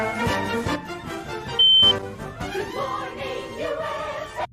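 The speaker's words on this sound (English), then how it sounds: "Just a loud, horrendous beep noise." A single loud, harsh electronic beep of about half a second cuts sharply into a busy mix of voices and game sound, then the mix carries on.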